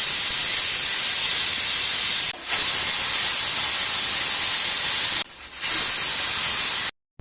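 A pressure cooker boiling salted peas whistles with a loud, continuous steam hiss, broken by two short gaps, before cutting off abruptly near the end.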